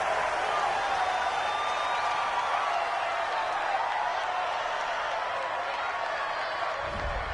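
Stadium crowd at a football game reacting to a penalty flag on third down, a dense, sustained roar of many voices that stays loud throughout, with a deeper surge near the end.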